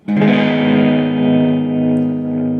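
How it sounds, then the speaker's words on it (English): An electric guitar through a JK Pedals Baby Doll Deluxe Trem pedal sets a slow tremolo, one sustained chord swelling and dipping evenly in volume as it rings out loud and alone. "you can still hear the tremolo"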